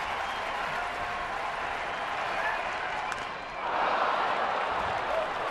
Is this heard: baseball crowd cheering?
yes